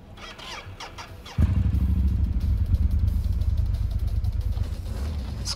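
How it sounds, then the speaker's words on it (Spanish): A motorcycle in Cyberpunk 2077 starts abruptly after a short quiet pause and then settles into a loud, steady engine idle with rattling mechanical clatter. "Vale, subo a la moto."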